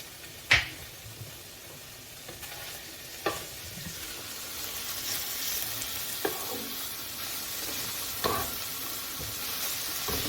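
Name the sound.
garlic butter melting and sizzling in a pan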